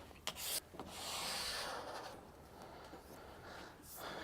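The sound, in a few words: hard scraper scraping wax off a ski base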